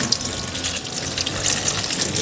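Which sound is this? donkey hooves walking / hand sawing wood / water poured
water poured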